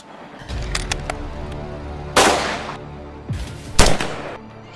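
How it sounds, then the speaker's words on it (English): Several sharp, loud gunshots ring out at irregular intervals during a wild boar hunt, each followed by a brief echoing tail, over a low background hum. "Gunshots rang out."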